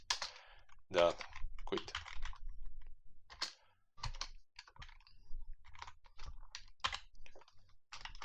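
Computer keyboard typing while writing code: bursts of quick clicking keystrokes spread across several seconds, close and clear, with someone speaking briefly between them.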